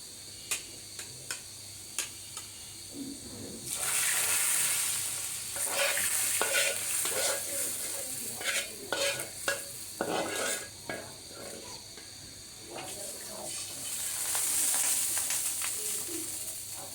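Dal getting a light plain tempering (bagar) in hot soybean oil with one green chili, a steady sizzle and frying crackle with occasional stirring and utensil clinks, close and fairly loud, with no talking.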